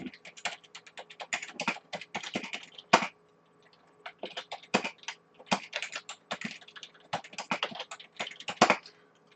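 Fingers tap quickly on a computer keyboard, close up, in uneven bursts of clicks separated by short pauses and one longer gap midway.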